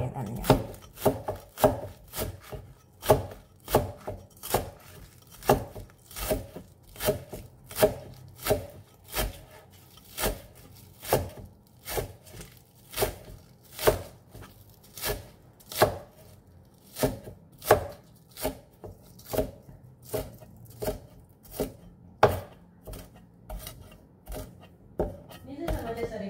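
A knife chops spring onion on a cutting board in a steady, brisk rhythm of dozens of sharp, close taps that runs for about 26 seconds.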